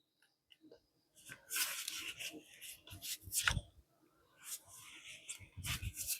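Silicone covers slide onto the end of a plastic tool, with several bursts of close rubbing and scraping friction separated by short pauses.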